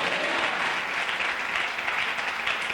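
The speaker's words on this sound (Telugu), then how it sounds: "చప్పట్లు కూడా దేవునికి స్తోత్రం చెల్లిద్దాం." A church congregation at a Christmas service claps together, dense continuous applause filling the room at steady strength throughout.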